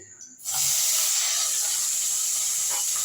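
Peanuts dropped into hot oil for fried rice erupt into a loud, sustained sizzling hiss that starts abruptly and continues steadily at close range.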